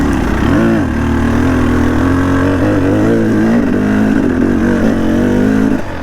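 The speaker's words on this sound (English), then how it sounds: "See, these two-strokes have the ability to actually lug down lower than idle" A two-stroke dirt bike engine lugs low and steady while climbing a hill, a loud, close drone with slight dips in pitch and no talk over it.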